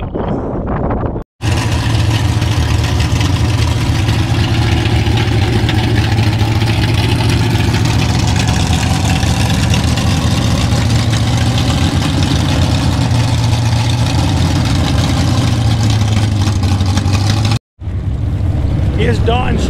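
A Ford Mustang engine idles steadily at a dragway, a loud continuous low rumble running unbroken for most of the stretch, with only brief cuts near the start and end.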